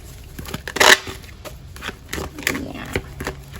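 Brief bursts of tarot cards being riffled and shuffled, with a rustling flurry near the start and softer handling sounds afterward, close up.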